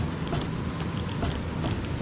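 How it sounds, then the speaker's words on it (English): Rain pours steadily in the video game Fallout 3, a dense continuous patter of drops on surfaces with no talk over it. "It is raining."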